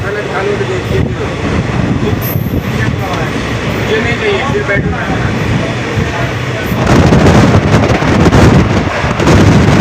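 A weekly overnight train running from Puri to Shalimar makes a steady rolling rumble and rattle from inside the carriage. It grows louder and rougher toward the end, with voices audible underneath.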